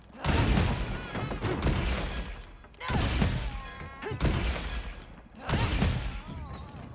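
Melee weapon, the Galahad, swung repeatedly in a video game: three or four loud, close whooshing strikes with impact thuds and crunches, each burst about a second long with short pauses between.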